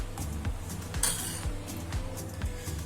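A spoon clinks and scrapes rhythmically against a pot while finely chopped onions are mixed into roasted brinjal, close and moderately loud.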